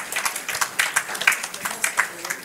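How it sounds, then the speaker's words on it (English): A church congregation applauds on a Sunday morning, a short spell of scattered, uneven handclaps from a modest crowd, fairly close and moderately loud, with no talk over it. "Why don't you give yourselves applause this morning?"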